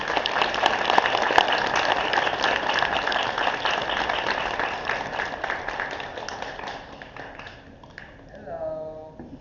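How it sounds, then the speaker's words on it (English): An audience at a poetry reading breaks into a sustained round of applause, a dense wash of clapping that gradually thins and fades toward the end. "Round of applause."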